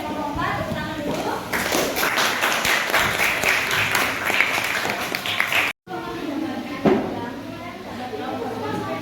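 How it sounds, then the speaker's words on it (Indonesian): A classroom of students claps for a student group, with dense, uneven clapping for several seconds, then a pause and scattered claps as talking resumes. "Tepuk tangan dulu."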